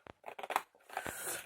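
Quiet snipping of scissors cutting craft paper: a few short crisp cuts followed by a longer, rustling slice, close by.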